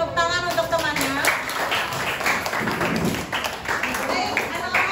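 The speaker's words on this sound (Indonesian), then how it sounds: "Beri tepuk tangan untuk temannya." A class of schoolchildren claps hands for their classmates, a scattered, uneven patter of applause mixed with children's voices and chatter throughout.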